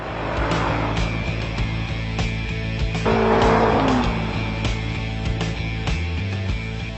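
A Jaguar sports car engine revs and roars close by, rising and falling through gear changes with a brief tire squeal, loud and continuous.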